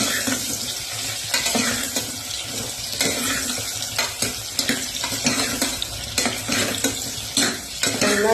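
Onions fry in oil in a pan and are stirred, a dense crackling sizzle broken by repeated scraping and clinking strokes of the spoon, close and continuous with no talk.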